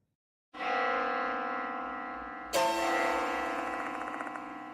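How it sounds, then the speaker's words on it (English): Two deep, resonant bell strikes in the horror game Spirit Hunter: Death Mark II, the second arriving about two seconds after the first, each ringing out with a long, slowly fading metallic tone and no talk over them. "This bell sound is..."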